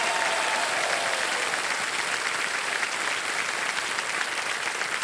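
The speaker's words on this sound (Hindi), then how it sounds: "और तालियां बजती रहे" Sustained studio audience applause on a Hindi television quiz show, dense and steady clapping throughout with no talk over it, loud and even from start to finish.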